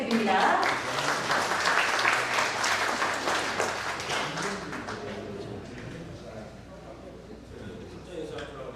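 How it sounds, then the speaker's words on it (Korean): Audience applause at a housing association project briefing: a dense, steady burst of clapping from a crowd, loud at first and slowly fading over several seconds, with a voice briefly audible beneath it. "여러분 큰 박수 부탁드립니다"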